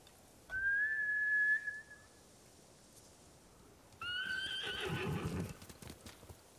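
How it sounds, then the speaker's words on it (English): Two samurai horse whinnies in Ghost of Tsushima ring out, one high and drawn out, then a second louder neigh with snorting breath, over a faint background. "Bastards scared off the horses."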